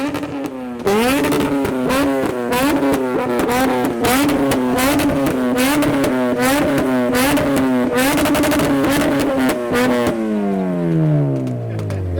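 A Honda Civic EP3 engine revs repeatedly in sharp rising bursts at a car meet, loud and close, then winds down in a falling whine at the end.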